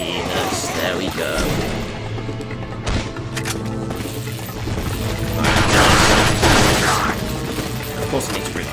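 Gunfire in Resident Evil 4, with bursts of loud shots and sustained blasts mixed with game noise, close and dense, while someone talks over it.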